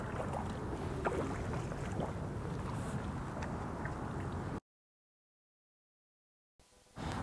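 Steady watery swishing and splashing from canoe paddle strokes in calm water near a dock, fairly close, with a gap of silence before the sound resumes briefly.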